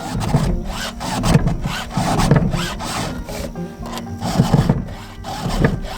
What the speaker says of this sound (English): it don't take long to sharpen it, especially if you got a good file